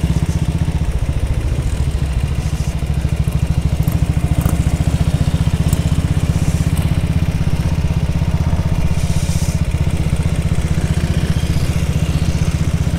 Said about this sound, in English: So now we're out on a 1950 whatever it is BSA 350cc.